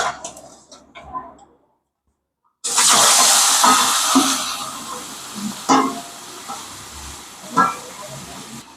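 Live singi fish drop into hot oil and set off a sudden loud, steady sizzle and hiss that keeps crackling with sharp pops, after quiet kitchen sounds.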